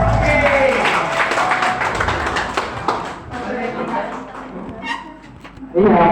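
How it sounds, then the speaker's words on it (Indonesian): An audience in a training session gives lively applause, a dense wash of clapping that fills the room and fades gradually, with a voice speaking near the end. "Bu, tepuk tangan yang meriah."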